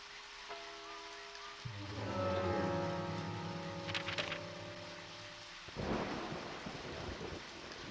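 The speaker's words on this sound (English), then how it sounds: "it's raining." Rain and thunder in the video game Deadly Premonition: a continuous soft rain hiss with a low rumble, while sustained tonal game music swells through the middle and cuts off before the rain continues alone.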